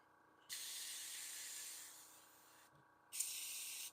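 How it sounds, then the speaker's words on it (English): An airbrush sprays cleaner through its nozzle in two bursts, a long steady hiss, then a pause, then a shorter hiss, close and alone over faint background hum. "Spraying good. I fixed my airbrush."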